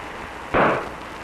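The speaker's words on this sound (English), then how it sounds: "Charges induced onto the ball terminals of the explosion tube caused the ignition." A static spark jumps between the ball terminals of an explosion tube and ignites it in a static electricity demonstration: one sudden sharp bang that fades quickly over a low steady background hiss.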